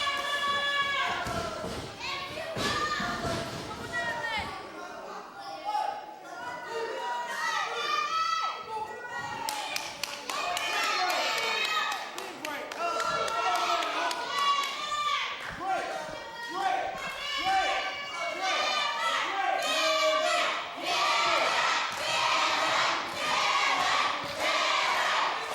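Wrestling crowd at an NWA Mountain State show cheers and chants for the wrestlers throughout, a loud continuous roar with rhythmic chanting swells and impacts, under commentary voices.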